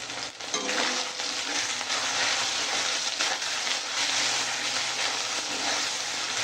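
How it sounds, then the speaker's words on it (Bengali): Spices with salt, turmeric and chili powder being stir-fried in a pan, a steady close, loud sizzle with light scraping throughout and no talk. "এবার ভালো করে একটু কষিয়ে নেব মশলাটা কষানো হয়ে গেছে"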